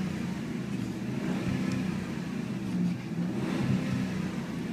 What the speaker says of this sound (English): So that's what the exhaust sounds like